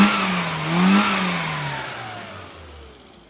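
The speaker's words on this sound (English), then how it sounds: "she sounds ideal for a standard engine" A tuned Mini 1000 with a standard engine revs briefly and close by, the pitch climbing to a peak, then sliding back down as the engine settles.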